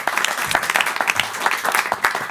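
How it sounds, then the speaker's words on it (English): Audience at an Amsterdam artist conversation evening applauds warmly, steady dense clapping filling the room from start to finish without any voices. "Give them a warm applause"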